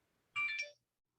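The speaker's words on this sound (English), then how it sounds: "I have a phone that goes off a lot." Short electronic phone ringtone bursting out once: a bright, tonal chirp of under half a second that stops abruptly, heard alone in a quiet room.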